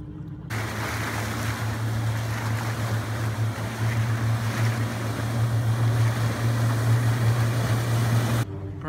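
A 2007 Meridian 341 motor yacht cruises up the intracoastal waterway near Pompano Beach, its engines giving a steady low hum under a broad wash of water and wind noise, continuous and close.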